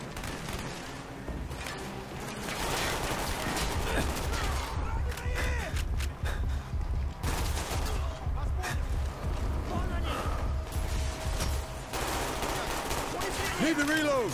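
Sustained heavy gunfire rattles through a firefight in Call of Duty: Black Ops at Kowloon, dense automatic bursts and explosions that continue almost without pause, loud and close, with occasional shouted voices under the noise.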